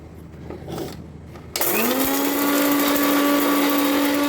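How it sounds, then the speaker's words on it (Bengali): An electric grinder whirs into action on dry-roasted whole spices for garam masala, starting abruptly after a quiet kitchen moment and holding a loud, steady high-pitched motor whine to the end. "এবার এটাকে গুঁড়িয়ে নিই"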